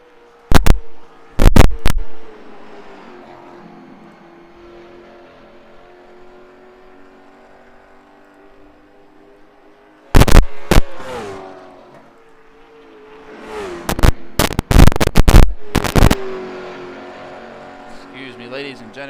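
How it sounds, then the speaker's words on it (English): Late model race car at Indianapolis Raceway Park accelerating down the backstretch, its engine note rising and falling through gear changes at a distance, with loud bursts of crowd or track noise near the start and end. "He revs up through the gears, down the backstretch."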